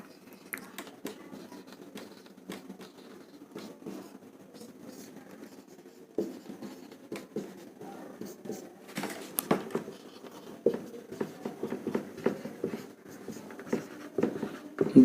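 Quick, scratchy strokes of a maths formula being written on a board come in soft, irregular bursts that grow busier toward the end.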